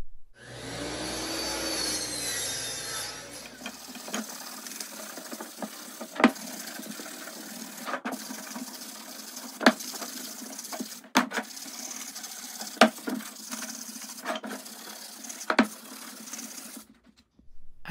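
A power saw cuts wooden boards for a canned food storage rack, a steady motor whine running throughout with repeated sharper bursts every couple of seconds as each cut bites, preceded by a brief mechanical startup.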